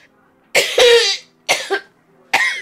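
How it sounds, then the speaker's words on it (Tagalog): A person coughs three times close up, harsh and breathy, with short silent gaps between the bursts. "Lahi man ang tingog si mong ubo."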